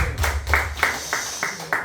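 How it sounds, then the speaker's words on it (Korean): Congregation applauding in a church after a sermon, a short burst of several soft claps in a loose rhythm, moderately near and fairly quiet, with faint low room rumble underneath. "다시 한번 박수 한번"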